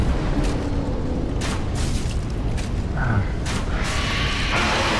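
A crossbow fires repeatedly in the video game Dark Souls 3, a series of sharp, booming releases with mechanical creaks, set against dense, steady game noise.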